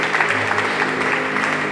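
A church congregation applauds, a dense, even wash of many hands clapping that continues steadily throughout, loud and fairly close.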